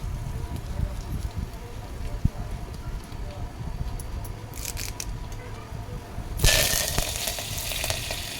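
Curry leaves hitting hot oil for a mango kadhi, a sudden bright sizzle bursting in near the end over a low background hum and faint earlier crackle.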